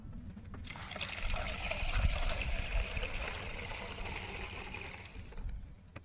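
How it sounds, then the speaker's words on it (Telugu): Water trickles in a steady, close stream into well-soured fermented buttermilk made from curd, swelling slightly midway and then easing off near the end, with no one speaking. "అండ్ కొద్దిగా వాటర్ యాడ్ చేస్తున్నాను"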